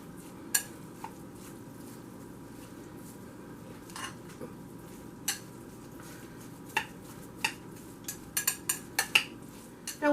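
A spoon clinks and scrapes against a bowl as stuffed cabbage filling is mixed with a touch of basil, sharp metallic taps that come sparsely and then in a quick cluster at the end, close and alone.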